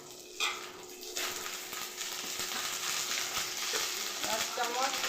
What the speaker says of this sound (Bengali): ফোড়নটা একটু ভালো করে ভেজে নেব